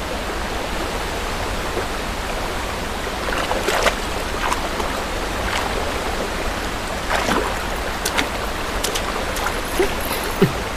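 Rushing water from a waterfall pours in a steady, broadband roar, with occasional sharper splashes breaking through; no talk is heard.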